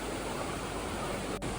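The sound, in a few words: waterfall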